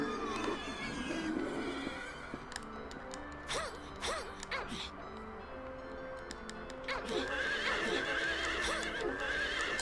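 Horses neighing and whinnying in the Silent Hill 3 video game, in an amusement park level: repeated loud, close whinnies with breathy snorts and clip-clop hooves over steady game ambience.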